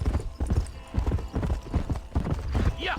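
Horse hooves clip-clop at a rapid gallop in the video game Red Dead Redemption, a steady close rhythm of hoofbeats with a short whinny near the end.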